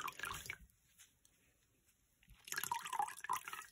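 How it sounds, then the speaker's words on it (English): Water wrung by hand from a soaked, freshly washed Fair Isle knitted hat, dripping and splashing in short bursts at the start and again near the end, with a quiet gap between. "Try and get as much water out before I get it into the towel."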